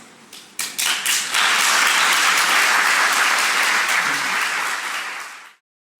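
An audience at a Slovenian political gathering breaks into loud, sustained applause after a speech, a dense wash of clapping that builds quickly, holds steady for several seconds, then cuts off.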